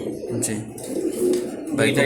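Imported Netherlands-bred racing pigeons at a loft in Dhaka coo low and throatily, close by, while someone talks over them.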